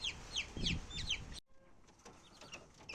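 Chicks cheep in quick high downward chirps, several in a row, close by, then fade to a quieter background of faint peeps and rustling.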